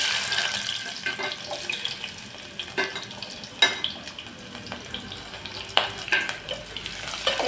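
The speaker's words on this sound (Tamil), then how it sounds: "நம்ம ஒரு பெரிய வெங்காயம் கட் பண்ணி வச்சுருக்கேன் சேர்த்திக்கலாம்" Chopped large onion drops into hot oil already crackling with mustard seeds and chana dal, giving a steady broadband sizzle with scattered sharp pops and stirring clinks, close and fairly loud, no voices.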